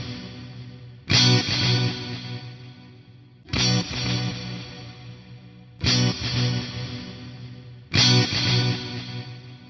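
A single electric guitar chord struck four times at even intervals, each ringing out with a long reverb and delay tail before the next strum.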